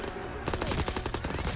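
Rapid automatic gunfire in the Call of Duty WWII video game, dense repeated bursts of shots packed close together over a loud battle background.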